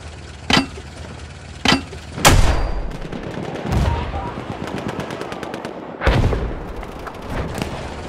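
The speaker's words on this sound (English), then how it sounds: "Machine gun over there!" Bursts of machine-gun fire crack out near and loud, with rapid rattling volleys and single heavy shots echoing over a battlefield, mixed with distant booms and no clear talk.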